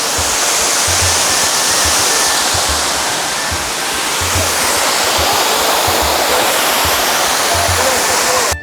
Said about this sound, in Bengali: আমি এখন আছি রিসাং ঝর্ণায় অসম্ভব সুন্দর উপর থেকে পানি নামতেছে